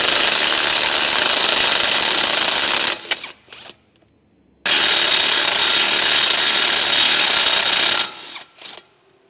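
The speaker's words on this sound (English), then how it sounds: "Use an 18mm deep socket with an electric wrench to remove the shock absorber from the lug." An electric impact wrench with an 18mm deep socket spins a shock absorber bolt off the lug on a 2012-2015 Chevrolet Cruze, two loud sustained buzzing bursts separated by a short clatter and pause, close up with no talk.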